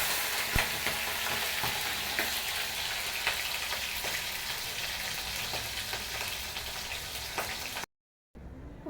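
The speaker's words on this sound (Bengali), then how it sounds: "ওই দেখো আজকে নিরামিষ তরকারি রান্না করতেছি।" Vegetables for a meatless curry frying and being stirred in a pan, with a steady dense sizzle and scattered scraping clinks of the stirring utensil, close and continuous, followed by a brief drop to silence near the end.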